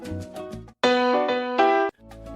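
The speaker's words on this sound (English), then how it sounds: "On the 2 side of the clave, a basic montuno pattern might sound like this." A piano plays a basic salsa montuno figure on the 2 side of the clave, with short syncopated chord stabs in a brief bright phrase, clear and alone, with tails of other sounds at each edge.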